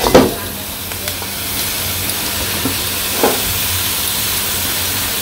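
Mixed leafy greens, including bottle gourd leaves and jute leaves, hit a hot pan in a village kitchen. A sharp initial crackle settles into a steady, loud broadband sizzle and hiss.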